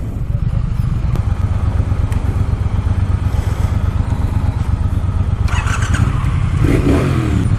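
A 2018 Triumph Thruxton R motorcycle engine runs loud and steady close by, with a rough rumbling idle and brief higher revs near the end.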